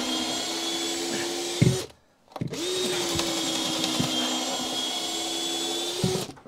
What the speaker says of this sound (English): that's why all my drills are on full speed.